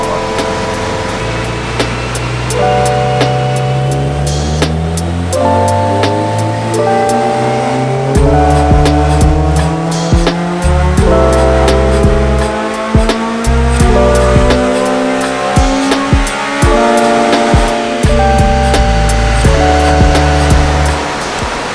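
A Honda Civic EP3 engine revs repeatedly on a dyno, rising and falling through several loud, harmonic sweeps as it climbs toward the limiter across the whole run.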